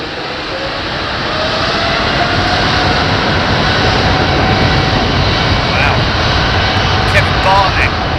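A United Boeing 777 jet engine roar builds within the first two seconds and then holds steady and loud, with people talking over it.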